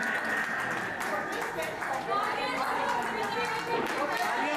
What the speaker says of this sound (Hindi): जोरदार तालियों से इन्हें स्वागत करते रहिए।